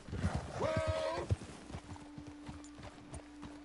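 Horse hooves clip-clop in Red Dead Redemption 2, a handful of close hoof strikes alongside a brief whinny, then a faint steady hum as the steps die away.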